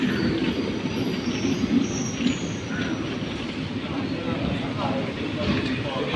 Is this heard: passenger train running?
yes